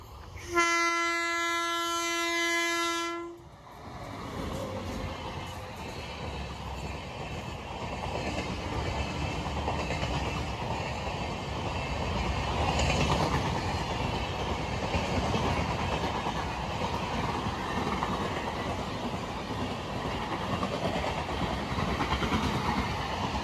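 A local train bound for Panvel at a station gives a loud multi-tone horn blast for about three seconds, followed by the steady close rumble and clatter of the train moving past. No one speaks.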